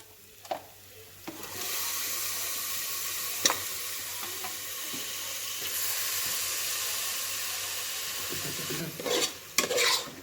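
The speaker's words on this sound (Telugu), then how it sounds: "ఆవాలు, కరివేపాకు, ఇలా ముందుగా తయారు చేసుకున్న మసాలా ఈ విధంగా వేయించుకోవాలి" Mustard seeds, curry leaves and a prepared masala fry in hot oil, a sudden loud sizzle rising after a couple of clicks and holding steady, with scraping stirs and clatter toward the end; close, no speech.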